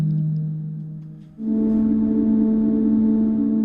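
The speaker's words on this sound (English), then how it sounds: "This is the sound of moss on a boulder, after a little translation." Moss on a boulder is turned into sound by a Plant Wave device: sustained electronic tones that drop briefly, then shift to a brighter, fuller chord that holds to the end.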